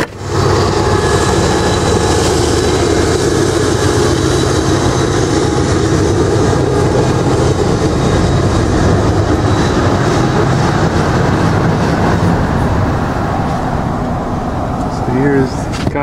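A train rolls past near a shopping center, a loud continuous rumble and clatter that lasts the full sixteen seconds and eases slightly toward the end.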